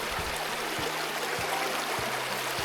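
A river flows beside a campground in autumn, a steady broadband wash of water running continuously at moderate level with low thumps beneath, no voices.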